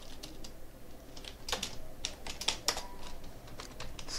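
Close fast typing on a computer keyboard while writing C code to connect to an Oracle database, irregular clusters of crisp key clicks, fairly quiet, with no talking.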